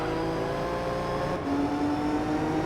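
A Lotus Elise in Gran Turismo 3 holds a loud, steady engine whine that drops to a new pitch about halfway through, as if shifting gear, with no voices.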